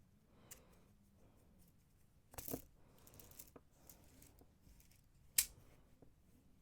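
Scissors snip through macrame cord while a triple-strand bracelet is being made, a couple of quiet sharp clicks standing out against a faint, mostly still background.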